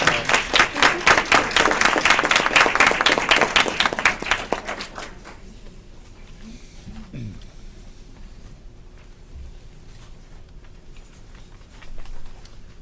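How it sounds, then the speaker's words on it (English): Audience members at a school board meeting give a brisk round of applause that lasts a few seconds, then fades into quiet room noise with a faint murmur and a small thump near the end. "One more round of applause"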